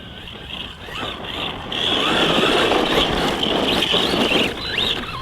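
A Kyosho Mad Van 1/10 scale electric RC monster truck drives at full pace with a high motor whine and gritty tire noise, getting louder as it passes close and then fading slightly.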